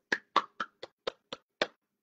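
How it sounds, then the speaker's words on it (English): Seven separate hand claps at a children's storytime, sharp and close, spaced unevenly over two seconds, with no talk between them. "Can you clap them together?"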